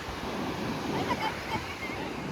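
Sea waves wash onto Jampore Beach at sunset as the tide goes out, making a steady, rushing surf hiss mixed with wind noise that stays constant and moderately near.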